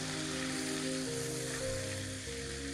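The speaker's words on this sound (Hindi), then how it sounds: "लहसुन को करेंगे सॉफ्ट होने तक फ्राई" Garlic fries in a pan with a steady, close hissing sizzle that fills the whole stretch, and a faint low hum sits beneath it.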